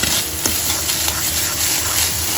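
Shrimp masala frying in a pan, a steady close sizzle with soft scraping and stirring throughout, no voices.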